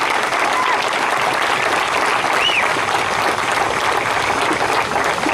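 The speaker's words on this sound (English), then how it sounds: "I think we owe a big round of applause for Dave Mull." Sustained, dense applause from a crowd at the unveiling ceremony for Southern Pacific locomotive #18 in Independence, California, steady and fairly loud from start to finish with no pause.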